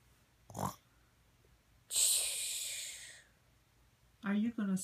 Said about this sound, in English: Why are you snoring?